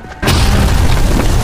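A single artillery explosion in a war film hits as a sudden, very loud boom after a brief quiet moment, followed by a sustained, rumbling roar of debris and noise.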